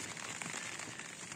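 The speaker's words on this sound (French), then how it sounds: "Pour l'instant, moi j'ai que de la pluie, un petit peu de pluie, pas grand chose." Light rain pattering on a tent in the high mountains at night, a faint, soft, continuous crackle of drops with no voices.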